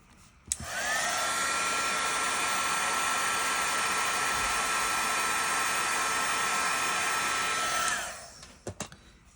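A heat tool blows hot air to set clear embossing powder on a card, switching on with a click, then a loud, steady whirring roar for about seven seconds before cutting off, followed by a few small knocks.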